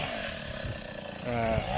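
A chainsaw cuts into a coconut palm trunk, its engine droning steadily at close range and rising in pitch and loudness toward the end of the cut.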